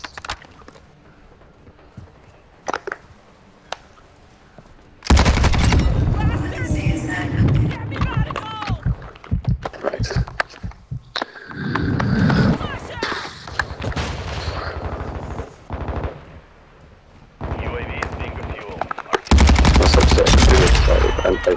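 Gunfire from a player's gun in a 6v6 match of Call of Duty: Modern Warfare II, loud rapid bursts repeating in several volleys, mixed with game effects and someone talking over the action.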